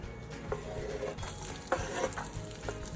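Cumin seeds and chopped onion fry in hot butter for pav bhaji, giving a steady close sizzle with a few scraping stirs of a spoon against the pan.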